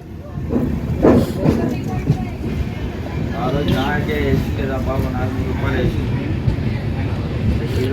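The Vasco-da-gama Velankanni express train rumbles along at speed with a steady rolling drone and some faint clattering, while people talk nearby over the noise.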